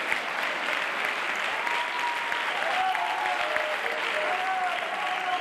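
Dense, continuous clapping from a theater audience at a live magic performance fills the room, loud and steady throughout, with faint voices under it.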